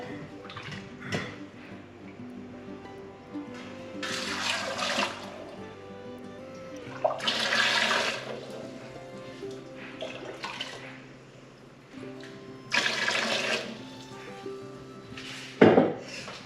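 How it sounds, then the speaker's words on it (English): Boiling water poured into the bottom of a pressure canner while canning homegrown chicken, heard as three or four separate splashing pours with faint clinks of metal and glass between them. "Then we want to do 2 to 3 inches of boiling water in the bottom."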